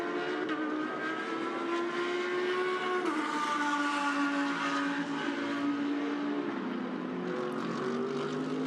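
GT race cars scream around Mount Panorama at Bathurst, their engine note rising and falling with gear changes as they pass in a continuous loud drone, with no talk over it.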